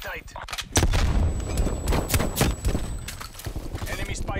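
Gunshots in Call of Duty: Black Ops Cold War multiplayer, a burst of sharp loud reports mixed with game noise while a player talks over them.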